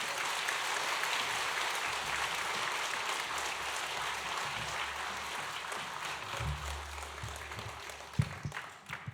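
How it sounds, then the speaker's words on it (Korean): Church congregation applauding in welcome at a new-sanctuary dedication service, a steady dense wash of clapping that holds for about nine seconds and thins out near the end. "나오실 때 우리 박수로 환영하겠습니다."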